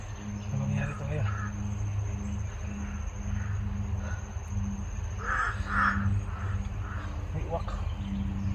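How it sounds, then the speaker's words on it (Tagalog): Crows caw a few times at moderate distance over steady low background noise and a constant insect-like whine, with people talking nearby. "May uwak."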